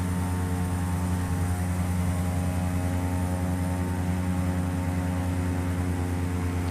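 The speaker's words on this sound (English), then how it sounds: "Alright, we have the throttle all the way forward, and we're looking for 80 knots." Carenado C208B Grand Caravan single-engine turboprop at full throttle on the takeoff roll in the Prepar3D flight simulator, a steady loud droning propeller hum with strong tonal whine, unbroken throughout.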